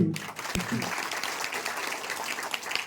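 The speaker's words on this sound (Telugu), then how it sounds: "మీ అందరి చప్పట్లతో" A crowd applauds at an inauguration ceremony for a cremation-ground development in Pasalapudi, led by the local MLA. A brief voice comes at the start, then sustained, fairly loud clapping from many hands fills the rest.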